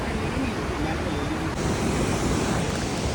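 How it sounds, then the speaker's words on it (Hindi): Fast-flowing river water in the mountains near Kasol after rain, a dense continuous rushing roar filling the whole clip, loud and close. "पानी का बहाव जो है तेज हो गया यहाँ पे एकदम।"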